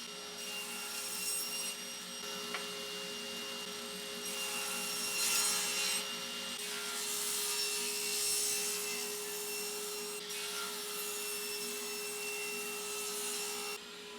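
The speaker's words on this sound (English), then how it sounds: "I'll cut out 3 blocks with the jigsaw and then clean them up on the table saw." A jigsaw cuts blocks from a 2x4 in a woodworking shop, a steady, fairly faint buzzing saw whine with a mild rasp that holds for the whole stretch, rising and dipping slightly as the blade works through the wood.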